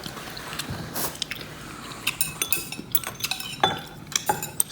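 Pork belly being tossed with a sweet and savory sauce and peanuts, giving a string of close, sharp clinks and scrapes of a utensil against a dish, with soft sticky mixing noises between them.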